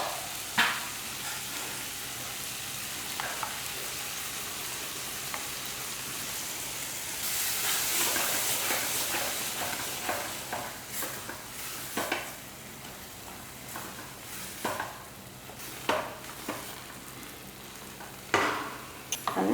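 Ground masala paste for black chana gravy sizzles and hisses as it is sautéed in a pan, a steady frying crackle punctuated by repeated clicks and scrapes of stirring, close and with no talking.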